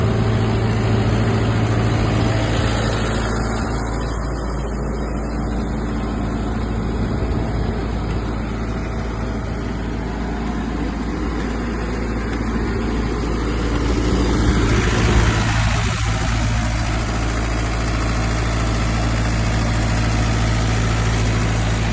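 A Mahindra Novo 605 tractor, a 60 HP 4WD CRDI diesel fitted with a power harrow, runs at a steady idle. The engine drones evenly and loudly throughout, close by, with no one speaking.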